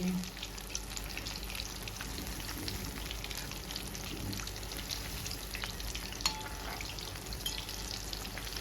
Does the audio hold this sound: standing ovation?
no